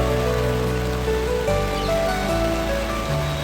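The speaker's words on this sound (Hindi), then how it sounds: "मस्त नज़ारा है भाई बारिश का," Rain pours down over a city in Thailand, a steady, dense hiss of falling water with faint tonal sounds mixed in beneath it, unbroken throughout.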